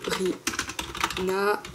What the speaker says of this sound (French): Désolée pour le bruit de clavier